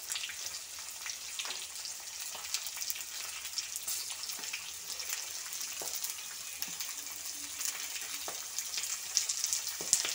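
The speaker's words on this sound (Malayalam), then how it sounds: "ഇത് നല്ലപോലെ മൂപ്പിച്ചെടുക്കാം." Chopped onion and green chilies frying in oil for a Kerala-style clam roast, a steady, close, continuous sizzle with faint scraping and stirring, and no voices.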